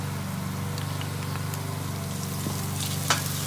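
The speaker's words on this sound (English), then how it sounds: "and fry this for another 3 minutes" Ginger garlic paste fries in an Instant Pot with a quiet, steady sizzle and a few small pops and clicks.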